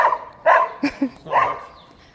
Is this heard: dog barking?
yes